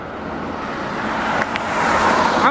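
Dense traffic on a busy mountain road, a close, loud, continuous rush of vehicles that swells slightly toward the end as a car draws nearer.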